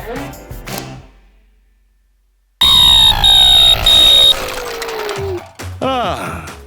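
A shrill electronic smoke detector beeps loudly in sustained tones after a short silence, with other sounds and a voice-like sweep around it.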